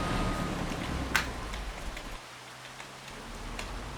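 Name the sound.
rain falling in Farming Simulator 25 video game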